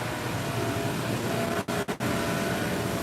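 Vacuum pump, a 2 CFM unit, runs steadily on a 20 ton altitude chamber, giving a loud continuous broadband drone that briefly cuts out in two short dips before resuming.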